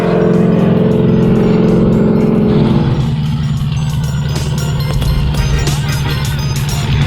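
A race car driving on a track during a first test run, a loud continuous engine drone whose pitch shifts midway as it speeds up and backs off.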